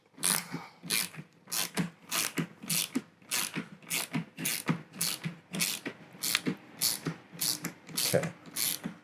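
Hand tools ratchet in quick repeated clicking bursts while loosening the nuts on a Gratz reformer's main wheel, close and fairly quiet, about a dozen evenly spaced bursts.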